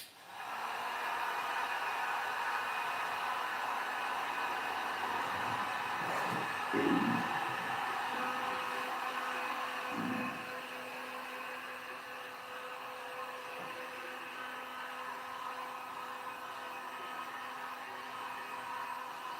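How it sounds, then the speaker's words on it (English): A heat gun blows hot air across a stenciled painted wood sign, giving a steady broadband whoosh that holds throughout, with a couple of brief low bumps partway through. "You gotta be careful with the heat gun"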